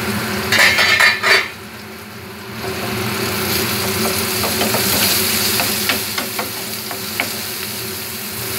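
Chopped eggplant sizzles in a pan as it sautés, a steady frying hiss broken by light clinks and scrapes of a utensil against the pan, with a brief louder clatter near the start.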